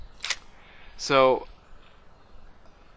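A DSLR camera shutter fires twice for a 1.3-second exposure, a crisp open click followed by a buzzy close clack, each sharp and near, with a voice briefly talking at the start.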